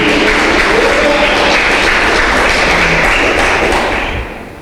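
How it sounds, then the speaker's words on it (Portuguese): A church congregation gives a loud, dense round of applause with scattered thumps, steady throughout before dropping off near the end. "uma salva de palmas para Jesus"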